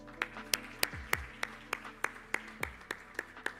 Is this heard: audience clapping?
yes